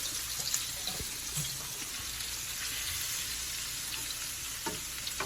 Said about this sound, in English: Starting off by putting it into the hot oil